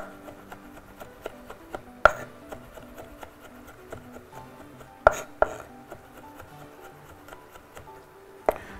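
Garlic cloves are broken apart by hand for a meatball sauce, giving soft, irregular cracks and small snaps with a few sharper, louder breaks standing out against quiet kitchen background.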